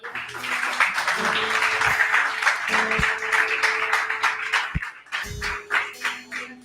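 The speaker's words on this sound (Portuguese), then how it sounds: "Dê um aplauso a Jesus" Church congregation applauding during a sermon, steady dense clapping throughout with a few voices and a sustained tone underneath, swelling and then tapering into scattered claps at the end.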